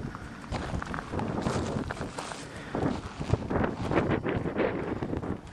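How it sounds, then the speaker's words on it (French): Wind blowing outdoors on a November hillside walk in the Ardèche, a steady broadband rush with buffeting gusts striking the microphone, continuous and fairly loud throughout with faint rustling and footstep-like movement beneath. "Il y a du vent."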